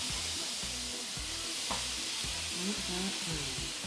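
Steak sizzles and spits as it sears in a hot pan, a steady close frying hiss with occasional scraping stirs.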